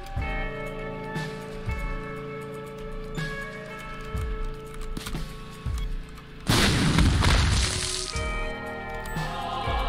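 Cannon shots boom at intervals in The Binding of Isaac, each a sharp thump with a short decay, followed by a louder burst near the end, all over a steady bed of game music.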